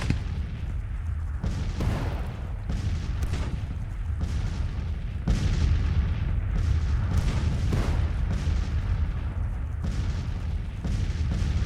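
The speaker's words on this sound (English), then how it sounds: "I've got some counter battery fire going, but it's not that effective if I'm honest." Counter-battery artillery fire in the Civil War strategy game Grand Tactician, cannon booms going off repeatedly at irregular intervals over a steady battlefield rumble, some shots near and others more distant.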